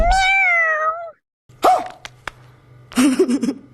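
A man imitates a cat with a drawn-out nasal meow, followed after a short gap by a few more yowling, meow-like vocal bursts, close and fairly loud.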